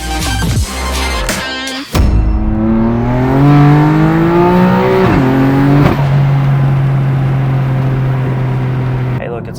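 A car running a custom E85 tune accelerates hard from about 40 mph. The engine note climbs steeply through the gears, loud and close inside the cabin, with a brief shift dip and a sustained high drone afterward.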